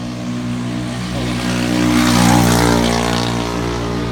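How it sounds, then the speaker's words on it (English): A car's brake rotor grinds as it rubs against an inner part near the brake bracket, giving a steady, droning mechanical whine that swells louder through the middle before easing back slightly. "the back of my rotor been rubbing against all of that in the inside of this"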